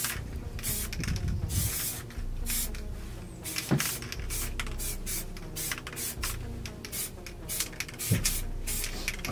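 An aerosol can sprays paint onto a rifle in a string of short, close hissing bursts, with occasional knocks and handling sounds between them.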